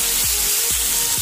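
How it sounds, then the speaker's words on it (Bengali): Finely chopped banana stem frying on high flame in a pan, a steady loud hiss and sizzle with no speech, marked by a few low periodic thumps like stirring against the pan. "মিনিট পাঁচেক সবটা নাড়াচাড়া করে ভেজে নেব"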